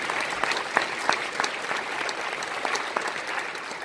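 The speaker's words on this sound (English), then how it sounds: "So let's give them a round of applause." An audience at a school Christmas choir concert applauds the choir students, a sustained round of mixed clapping with some sharper individual claps, moderately loud and filling the room without talk over it.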